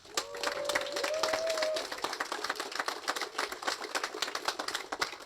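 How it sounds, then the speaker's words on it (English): An audience at a report launch event gives a hearty round of applause: a full burst of clapping for about two seconds that thins into scattered, uneven individual claps. "let me also ask the audience here to offer a big hearty round of applause"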